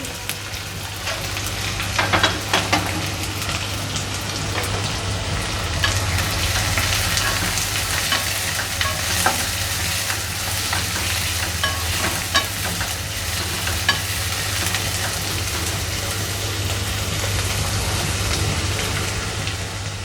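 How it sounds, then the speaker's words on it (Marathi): Green chillies and onion sauté in a hot pan, giving a loud, continuous sizzle like steady rain, broken by frequent scraping and clinking spatula stirs with no voices. "त्यानंतर हिरव्या मिरच्या घालूया त्याबरोबर कांदाही घालून घेऊ आणि चांगला परतून घेऊया"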